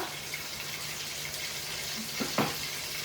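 Carrot, capsicum, onion, tomatoes and green chillies fry in a pan, giving a steady, moderate hiss with a couple of sharp clinks near the end.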